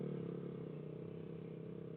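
A motorcycle engine held on the throttle, a steady, close mid-pitched drone with a fast pulsing beat that stays constant, with no voices over it.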